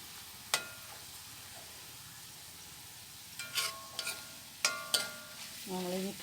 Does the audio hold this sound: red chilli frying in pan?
yes